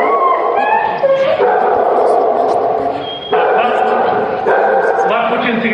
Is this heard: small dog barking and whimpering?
yes